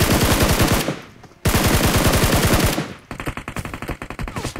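UMP submachine gun fire in the battle game PUBG: three loud, close bursts of rapid automatic shots, the first two long and steady with brief gaps between them, the last a choppier string of rounds.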